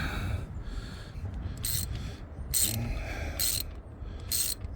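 A ratchet clicks in several short bursts while tightening a coolant temperature sensor on a Silverado or Sierra 5.3L engine, close and fairly quiet over a steady low background hum.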